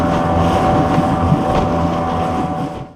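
A motorboat engine roars steadily at about 19 knots over clear water, with rushing wind and water noise filling the sound throughout.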